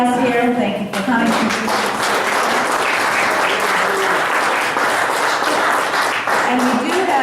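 An audience applauds a debate candidate, steady dense clapping that fills the room for several seconds without a break.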